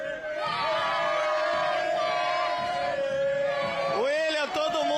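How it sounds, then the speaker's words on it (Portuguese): Fluminense supporters sing together in Laranjeiras stadium, a loud, sustained wall of massed voices that carries steadily throughout, with a few raised shouts near the end. "Tem bandeirão, a torcida cantando e a vitória do Fluminense"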